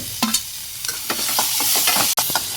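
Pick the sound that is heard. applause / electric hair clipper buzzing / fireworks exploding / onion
onion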